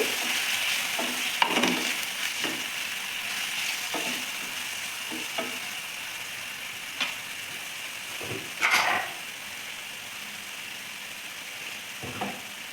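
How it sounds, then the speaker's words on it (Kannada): Mushroom manchurian frying in a pan with tomato sauce, a soft continuous sizzle with scattered spatula scrapes and clinks while it is stirred, close and without talk. "ಫ್ರೈ ಮಾಡ್ಕೊಳ್ಳಿ"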